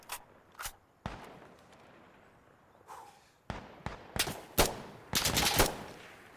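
Rifle gunshots in a shooting video game, several sharp cracks fired singly and then in a quicker close burst, loud and near over a quiet background.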